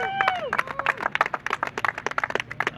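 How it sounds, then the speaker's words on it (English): Crowd at a street-racing track finals event claps and cheers for the night's race winner, scattered hand claps mixed with whoops over a babble of voices. "Let's have a round of applause for Ian"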